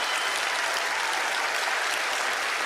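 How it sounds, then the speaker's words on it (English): Studio audience applause on a magic show, dense and continuous clapping at moderate level, an even wash of hands with no voices rising above it. "Give him a big round of applause."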